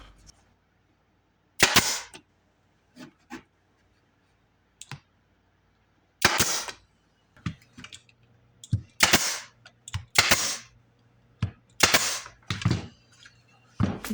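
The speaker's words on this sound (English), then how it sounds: "Lay it out, space the overlaps, staple and glue." Staple gun firing into wooden 2x4 panels during a scrap-wood build, a series of sharp, loud snaps in small clusters with quiet gaps between them and no talk.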